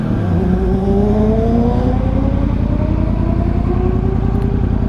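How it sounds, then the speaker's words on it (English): A motorcycle engine drones loud and close, its pitch climbing steadily as it accelerates through the gears, with a constant roar and no talking. "That's someone having a bit of fun on an R6 up, as you do."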